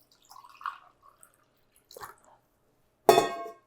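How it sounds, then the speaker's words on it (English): Water is poured into a sheet pan, giving a few soft splashes and drips followed by a brief, louder splashing pour near the end, close and clear with no talk. "We're gonna actually start with 1/2 cup of water in the base of my pan here"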